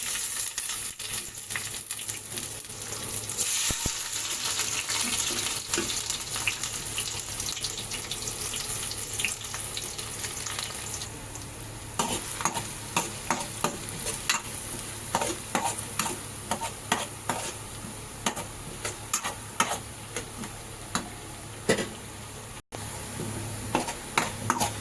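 Sliced onion frying in a very hot kadhai, a steady sizzle running throughout, broken in the second half by repeated scraping stirs of a spoon against the pan.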